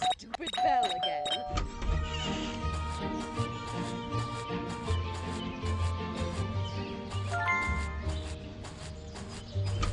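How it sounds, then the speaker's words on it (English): Doorbell in the video game Scary Teacher 3D, heard as a brief chime among busy in-game music and sound effects, with a voice speaking over the mix. "There goes that stupid bell again."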